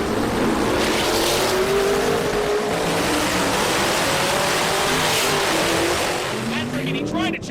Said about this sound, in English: he tried to chase, but that Hemi is pulling